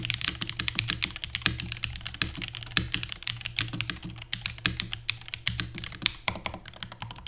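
Rapid, steady typing on a mechanical keyboard, with dense clacky keystrokes close up and a low hum beneath, no talking.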